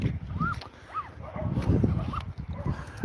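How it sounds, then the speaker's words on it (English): A dog barks and yips at passers-by around a holiday camp in Withernsea, a few short rising calls set against outdoor wind and ambient rumble. "I can hear somebody's dog having a go at us"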